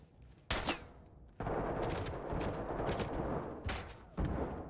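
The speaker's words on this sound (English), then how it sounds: "That's a lot of shots." Gunfire in the tactical shooter Ready or Not, with sharp shots and a sustained rattling burst of automatic fire, plus a few loud isolated cracks, fairly faint overall and with no talk.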